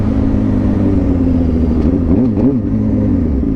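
A neglected Suzuki Gixxer motorcycle being ridden: a steady engine drone, then a couple of quick throttle blips that rise and fall near the end, with no talk.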